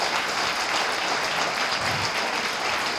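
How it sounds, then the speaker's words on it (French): An audience at the Femme de l'année 2017 award ceremony applauds in a steady, dense wash of clapping that fills the room. The applause stays at an even level the whole time, with no voices over it. "Alors on les applaudit."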